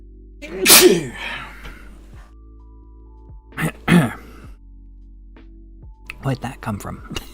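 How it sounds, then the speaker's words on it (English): Several sneezes burst out one after another, sharp and close, each followed by a short breathy aftermath, with quiet pauses between them. "And I'm gonna sneeze."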